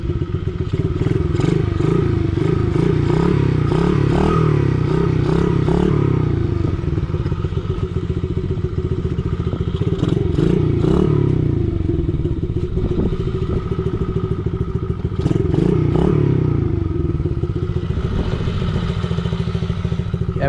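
Gas dirt bike engine warming up on a street, a loud, steady idle with rhythmic throbbing and rising and falling revs, mechanical clatter on top, continuous and close throughout.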